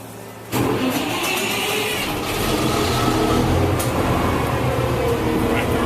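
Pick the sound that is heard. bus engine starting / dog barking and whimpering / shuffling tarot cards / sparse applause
bus engine starting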